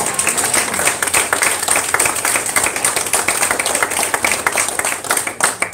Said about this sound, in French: Applaudissez Jésus, alléluia.